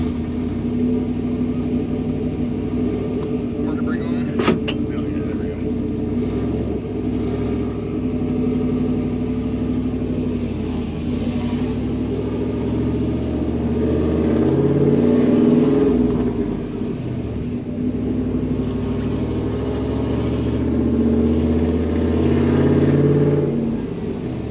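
Chevrolet Silverado pickup with a 4.8 V8 and five-speed, being driven on a tune test: a steady, loud engine rumble that swells twice as it revs, with one sharp click near the start and no talk.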